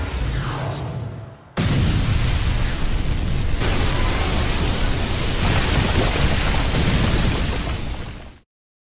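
The Almighty Push blast from the Naruto anime erupts as a sudden, massive roaring burst that sustains like a rushing storm for several seconds before cutting off abruptly.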